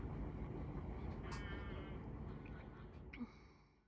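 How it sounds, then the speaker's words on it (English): Faint geese honk briefly in the distance over a steady low rumble of outdoor background noise. "I can hear geese."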